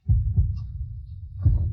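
A dramatic heartbeat sound effect from a Hindi-dubbed drama, with deep thumping beats pulsing steadily at close range and no voices over them.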